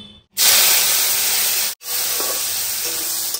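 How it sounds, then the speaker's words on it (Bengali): Oil and cumin seeds sizzle in a hot wok, a loud, bright hiss that bursts in, cuts out for a moment, then resumes strongly and steadily. "এই যে কড়াইতে তেল আর জিরে ফোড়ন দিয়ে দিয়েছি"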